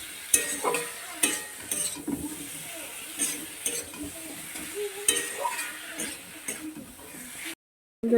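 Young jackfruit and prawn curry is sautéed with spices in a pan. A spoon scrapes and stirs in irregular strokes over a soft sizzle, with light clinks against the pan, a voice talking quietly, and a brief drop to silence near the end.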